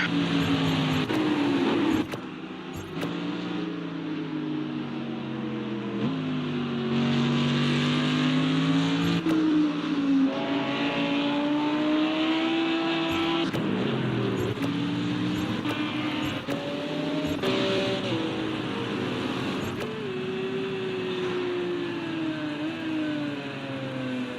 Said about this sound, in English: Porsche does sound very nice.